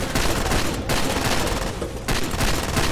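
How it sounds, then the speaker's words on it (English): Gunboats trading fire in the Far Cry 2 video game, with dense, continuous loud automatic gunfire that pauses briefly twice before resuming. "Why are they shooting each other?"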